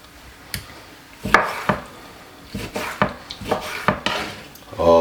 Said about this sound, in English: just cut up the orange into some small pieces and put it straight inside of the blender like